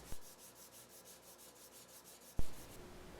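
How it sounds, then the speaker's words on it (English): Steady rhythmic rubbing of a wooden sanding block with sandpaper scraping back and forth across a V-shaped guitar body, with two sharp knocks at the start and near the end. "since I used a wooden sanding block"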